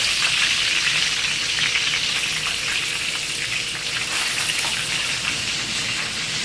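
Salisbury steak patties browning on both sides in a hot pan give a loud, steady, close sizzle and hiss that never lets up, with no talking.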